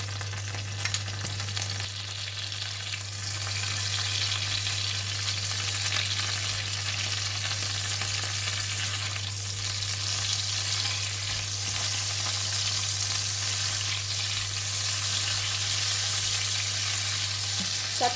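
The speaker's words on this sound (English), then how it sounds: "This time I'm going to fry the salted fish" Salted fish and chili fry in a wok with a continuous, even sizzle and crackle, a low steady hum running underneath throughout, with no talking.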